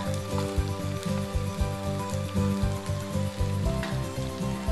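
A paste of ground coconut, shallots and cumin sizzles and crackles as it hits a hot pan of fish curry, giving a steady, close frying hiss with small bursts of spatter.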